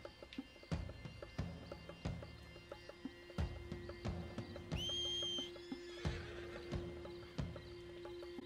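A horse neighs loudly once in the video game Red Dead Redemption 2, amid rhythmic hoofbeat-like thuds and a steady sustained tone, with no talking.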